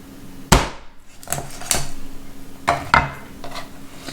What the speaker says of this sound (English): I'll chop this one in half